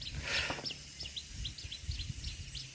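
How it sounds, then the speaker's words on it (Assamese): Birds chirp and sing in a forest in Amchong, Assam, with short repeated high calls spaced through the clip over a low wind rumble and a brief rustling burst near the start. "চৰাই মাতি আছে ইয়াত ধুনীয়া চৰাই"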